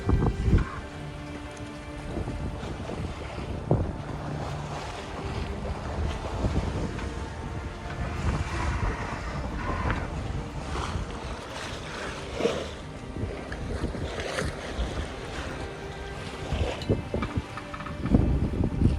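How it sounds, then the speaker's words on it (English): Wind buffeting a sailboat at sea as a small rain storm moves in, a steady loud rush of gusts and microphone wind noise with water and hull sounds throughout, no voices. "Got a mini storm coming in with some rain"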